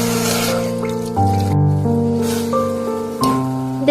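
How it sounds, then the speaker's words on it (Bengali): Water poured into a pot of date palm jaggery, a continuous close pour whose pitch rises steadily as the vessel fills, with no talking. "দিয়ে দেব 2 বাটির মতো জল।"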